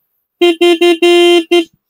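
A Hero Mavrick 440 motorcycle's loud, bright electric horn honks five times in quick succession, one blast held longer than the rest, against silence.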